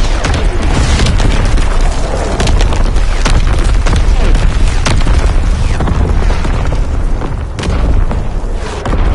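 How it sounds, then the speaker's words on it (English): Enemy artillery explosions in Call of Duty WW2, loud dense booms and bursts crashing one after another in a continuous close barrage with debris crackle. "Incoming enemy artillery!"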